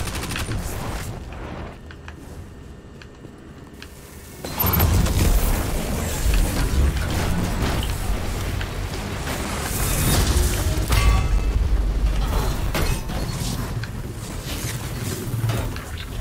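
A Nova Bomb blast and surrounding gunfire during a Destiny 2 Crucible Mayhem match, a loud booming eruption cutting in after a quiet stretch, followed by continuous heavy shooting and explosions.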